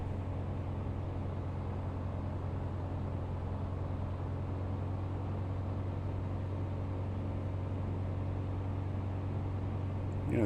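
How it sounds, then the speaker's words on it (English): Steady broadband wind roar from warbird dive brakes in Microsoft Flight Simulator, a constant loud rushing hiss over low engine rumble that holds unbroken throughout. "You can hear that wind every time I hit the dive brakes."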